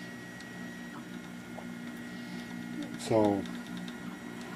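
Anet A8 3D printer laying down its fourth layer, a steady low mechanical hum with faint stepper whirs and a short rising motor whine midway; a voice briefly speaks.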